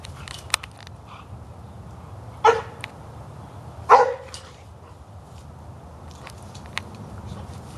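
Two short, sharp barks about a second apart from dogs playing with a Boxer puppy, moderately close, with a few lighter yips and scuffling in between against quiet background noise.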